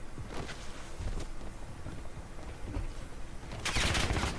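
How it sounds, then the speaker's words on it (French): Automatic gunfire and scattered shots in a Call of Duty Warzone match, with bursts running through the clip and a louder, brighter volley near the end. "Wesh, ça tire encore?"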